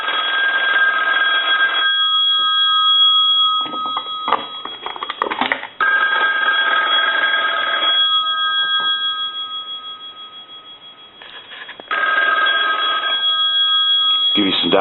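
Loud electromechanical bell of a 234G three-slot payphone ringing in a shop, in long sustained bursts separated by brief pauses, close and piercing.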